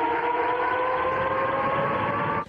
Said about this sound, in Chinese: 周末又响起空袭警报